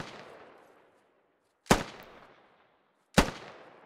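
Two sharp gunshots from Squad, a military shooter game, crack out about a second and a half apart, each followed by a long echoing tail that fades into quiet.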